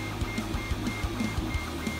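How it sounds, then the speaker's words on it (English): 3D printer with triple Z motors and a self-levelling bed laying down its first layer, a steady mechanical hum with regular soft stepper pulses repeating about every third of a second, no voices. "the printer still manages it quite good"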